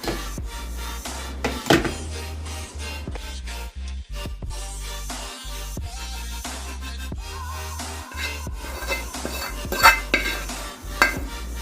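Gundar pak being spread into a ghee-greased plate: repeated scraping and clinking of a utensil against metal, irregular strokes with occasional sharper knocks, close and moderately loud.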